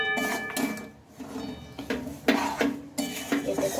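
Grated raw mango pickle being stirred with chili powder in a bowl, giving several irregular scraping clinks of a spoon against the bowl with short pauses between strokes, close and fairly quiet.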